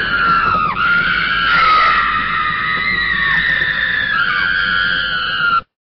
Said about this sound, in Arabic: سمعنا صرخة هزت المكان وكانت جدا جدا